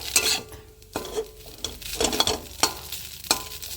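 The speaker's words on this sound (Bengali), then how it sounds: "এভাবে নাড়া দিয়ে আমি দু মিনিট হতে দেবো" Potato chowmein frying in a pan while being stirred, with a steady sizzle broken by repeated scraping and clanking strokes of a utensil against the pan.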